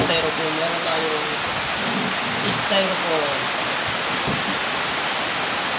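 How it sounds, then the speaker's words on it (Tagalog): Heavy rain pours in a steady, dense hiss that fills the whole stretch, while a person talks over it nearby during a DIY styrofoam incubator build. "pasensya na kasi malakas yung ulan dito"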